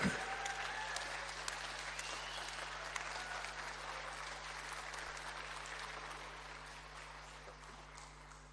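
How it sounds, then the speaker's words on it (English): Sustained applause from an audience at a closing ceremony rolls on for several seconds, gradually thinning, heard against a steady low hum. "A round of applause for SG as we bring our curtains down"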